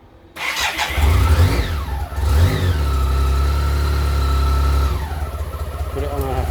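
A 1986 BMW K75C motorcycle engine cranks and catches, then revs up loudly and settles into a steady, close idle with a couple of throttle blips, while a voice talks over it.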